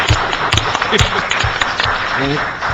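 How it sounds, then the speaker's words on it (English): A brief round of applause for a guest at a city housing committee meeting, patchy clapping mixed with overlapping speech in a room. "let's give Richard a round of applause"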